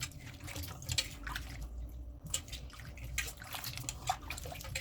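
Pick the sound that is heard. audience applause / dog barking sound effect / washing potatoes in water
washing potatoes in water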